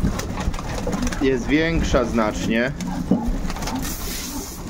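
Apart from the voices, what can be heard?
young pigeons cooing after vaccination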